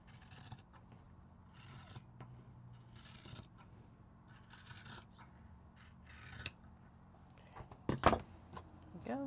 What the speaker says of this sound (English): Okay, trim down the selvages.